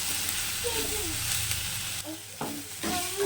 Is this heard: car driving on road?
no